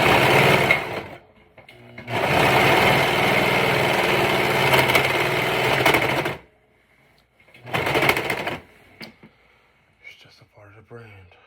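A serger sewing machine runs in bursts, a loud close buzzing whir for several seconds, then silence, then a shorter burst, with a few faint clicks afterward.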